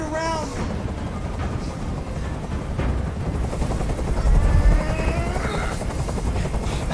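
A helicopter in the video game Detroit: Become Human, its rotor thumping loud and close throughout, with a low rumbling drone underneath.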